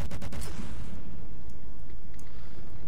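Cannons firing in the naval combat game From the Depths, a quick run of heavy booming shots at the start followed by a rumbling low roar and faint distant thuds, loud and without talk.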